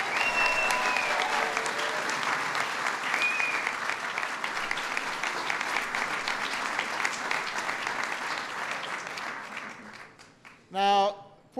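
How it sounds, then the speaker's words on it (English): A White House crowd welcomes the Irish Taoiseach and his wife with a long, loud round of applause that gradually thins out, ending as a voice begins to speak. "Please give them a big round of applause."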